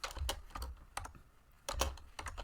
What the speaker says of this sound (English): Start by typing else